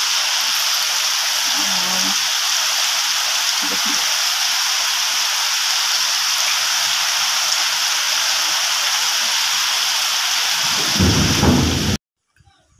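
Heavy early-morning rain falls in a loud, steady hiss with low rumbles of thunder, one deeper roll swelling near the end before the sound cuts off abruptly.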